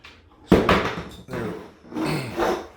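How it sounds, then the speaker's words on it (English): A dog plays with a bone in a home kitchen, making irregular knocks, clatters and scrapes that come in bursts close by. "That's my dog playing with a bone."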